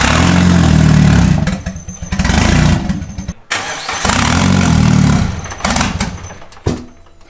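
A turbocharged Mitsubishi Lancer engine with no exhaust fitted starts and revs hard with a raw, loud roar, rising and falling in two long pulls before dropping back to idle.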